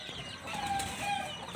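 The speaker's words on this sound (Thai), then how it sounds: "ลูกไก่ตากแดดครับมาชมลูกไก่ตากแดดครับ" Young chicks basking in the sun on a cool day give faint, soft clucks and a few thin peeps, quiet and close with a low background hiss.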